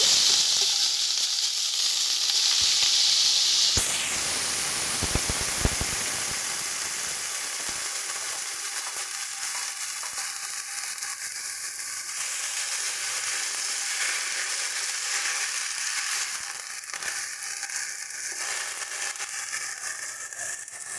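Steamed water lily stems added to hot oil flavoured with cumin in a wok, producing a loud, continuous frying sizzle with a brief clatter of stirring early on, steady and close throughout without speech.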